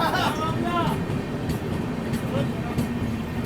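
Gorakhpur–Mumbai Antyodaya Express, an all-general-coach train just past the Ganga river crossing, rumbles steadily and close, with a constant low roar and faint clatter throughout and a few brief voices over it.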